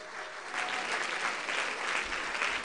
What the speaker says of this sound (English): Oh, yeah, you can clap for it.